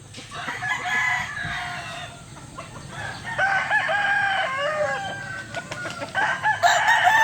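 Several chickens cluck in quick, overlapping bursts while a rooster crows, all fairly close with a light background hum.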